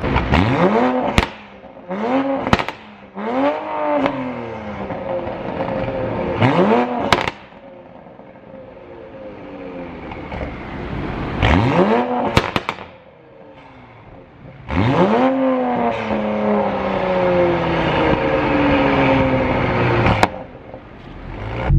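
Car exhaust with a catless downpipe tune, its burble sitting between stock and flame-tune aggressiveness, heard as repeated revs that rise and fall with crackling pops on the overrun, close and loud, with no talking.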